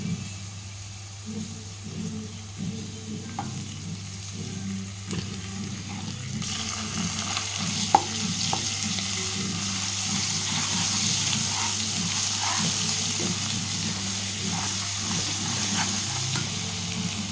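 Ginger fries in a pan for chicken fry, giving a soft, steady sizzle with scattered small clicks. The sizzle grows brighter and a little louder partway through, and nobody speaks.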